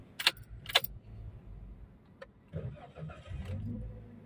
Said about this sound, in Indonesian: ini sekarang kita coba hidupkan mesin